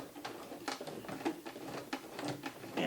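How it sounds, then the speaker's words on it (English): A hand-cranked sewing machine stitches slowly through thick quilted layers of a Christmas stocking, giving a steady run of soft mechanical clacks about twice a second, close by and with no talking. "I'm going to hand crank it through part of this so that it can go through all these layers"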